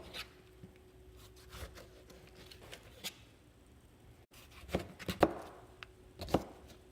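A knife chops food into coarse cubes for turkey artichoke chili: sparse, soft taps on a board, growing into a few sharper, louder strikes toward the end.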